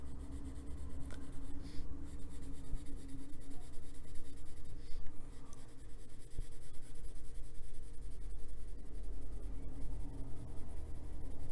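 Colored pencil shades on paper in soft, continuous scratchy strokes, close and quiet, with a few brief pauses.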